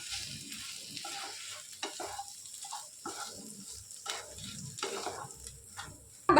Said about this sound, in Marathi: मिरची पावडर, धनिया पावडर, हळद, नमक, मीठ घालूया आणि सगळं मिक्स करून घेऊया